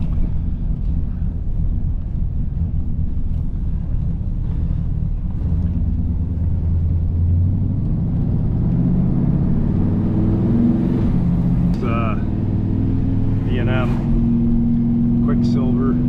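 A 1983 Pontiac Parisienne four-door with a Quicksilver shifter drives along, its engine rumbling steadily up close and rising through gear changes, with someone talking over it throughout.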